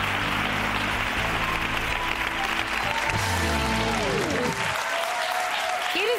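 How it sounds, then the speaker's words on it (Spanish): TV studio audience applause: continuous, loud clapping from the crowd throughout, with a tonal musical layer underneath and some faint voices mixed in. "pues un aplauso para Raquel."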